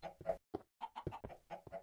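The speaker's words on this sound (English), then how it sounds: "Let's check on our chicken. Our chickens." Chickens in the Minecraft video game cluck in a run of short, close, fairly loud bursts with brief gaps between them.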